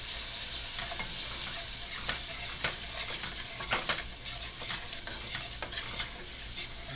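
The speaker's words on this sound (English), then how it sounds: "I'm going to stir that around." A spoon stirs stock into brown gravy in a pan, making repeated soft scraping and clicking strokes over a low, steady sizzle, close by and with no talking.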